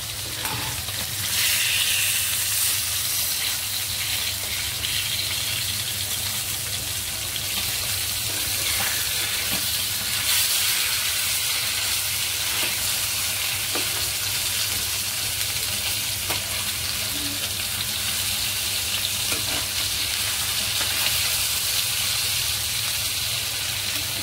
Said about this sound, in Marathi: याही बाजूने आपण बांगडे चांगले खरपूस भाजून तळून घेऊया।